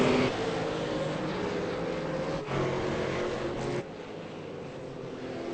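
V8 race car engines in a sim racing game at Zandvoort, a steady sustained roar of engines under load that dips briefly and drops to a lower, quieter drone near the end.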